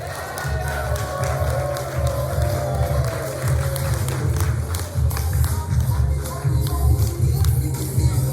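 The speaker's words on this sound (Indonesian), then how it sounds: "tepuk tangan buat Bapak Ibu semua dong" An audience applauds at an indoor business gathering in Depok, with a dense, steady patter of many hands mixed with crowd cheering over a low hum, sustained for several seconds.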